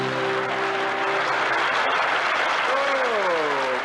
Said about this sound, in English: How about a big round of applause, eh, for Tom?